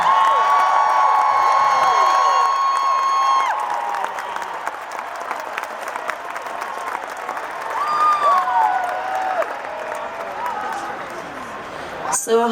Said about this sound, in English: A round of applause for my wonderful band